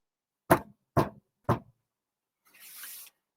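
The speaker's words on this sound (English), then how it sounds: "there came an almighty thunderous knock upon the door of Shonks's manor" Three loud, heavy knocks on a manor door, evenly spaced and close, followed by a short hiss of noise.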